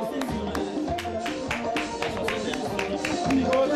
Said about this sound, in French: On va applaudir très fort l'artiste.